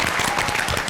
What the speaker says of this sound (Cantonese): 掌聲歡迎！